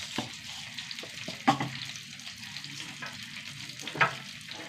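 Mustard seeds and a few fenugreek seeds crackle in hot oil in a brief, moderate sizzle, with a couple of sharper pops standing out.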